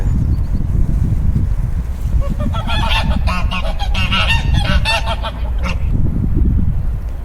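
Geese and ducks in a guesthouse backyard where chickens are also kept give out a loud cluster of rapid honks, set over a low outdoor rumble.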